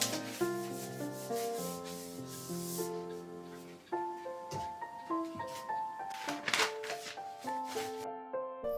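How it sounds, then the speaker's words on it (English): Paper being folded, creased and handled, its dry rustle and rubbing heard softly and close up beneath gentle sustained piano-like music. "the sound of paper when it is folded, creased, manipulated, which to me is the most hypnotic sound ever"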